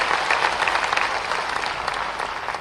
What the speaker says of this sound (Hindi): इसलिए तालियां बजा के आप स्वागत कीजिए।